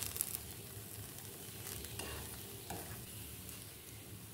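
Pancakes frying in a pan on a home stove, with a steady low sizzle and occasional stirring or scraping sounds, no talking.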